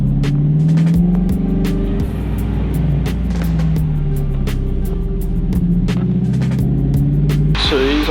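Honda S2000 being driven into a workshop, a close, loud steady engine drone with low rumble and shifting pitch, accompanied by intermittent clicks and knocks.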